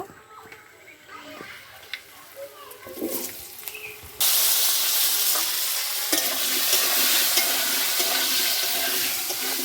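Cut potato pieces dropped into hot oil for a vegetarian patol paneer korma, bursting into a loud, steady broadband sizzle partway through after quieter stirring and clatter, then frying on continuously up close.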